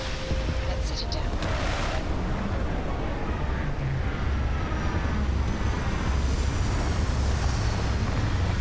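A spaceship sets down in Starfield with a steady, loud engine roar and rushing wind-like thrust that holds throughout, with brief higher whines early on.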